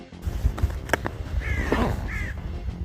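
Crows caw nearby in two short harsh calls over faint outdoor background noise, with a few soft knocks.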